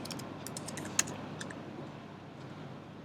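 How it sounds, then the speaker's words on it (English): Light, quick typing on a computer keyboard, a brief flurry of soft clicks with one sharper keystroke, fading to faint scattered taps over a quiet background hum. "if I type something"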